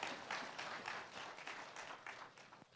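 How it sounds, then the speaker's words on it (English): A church audience claps in a steady round of applause, the overlapping hand claps fairly close and even, fading a little near the end. "Let's give Chris a round of applause."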